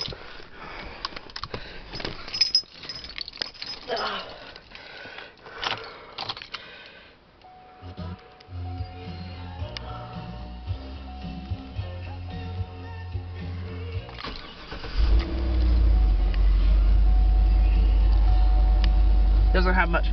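A 6.2L V8 engine is cranked and fires up, settling into a loud, steady, deep idle after scattered handling clatter and sniffing; a person talks briefly before it starts.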